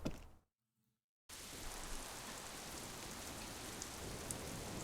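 Steady rain pours down in the video game Disco Elysium, a dense, even hiss that cuts out briefly near the start and then returns loud and unbroken.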